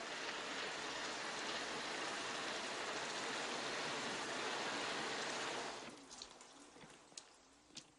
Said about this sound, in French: Mais il pleut à verse.